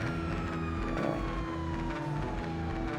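Police car siren wailing in GTA Online, a sweeping tone over steady engine and road noise from traffic, loud and continuous.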